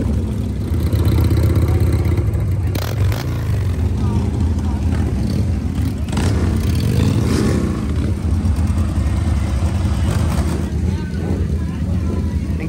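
Race motorcycles idle and rev in the pits at a beach motorcycle racing event, a steady loud engine rumble with sharper throttle blips, heard near and continuous under crowd noise and some talk.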